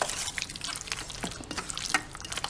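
Egg broken into a chicken marinade and stirred by hand, a close, wet squelching and mixing with small splashy clicks throughout.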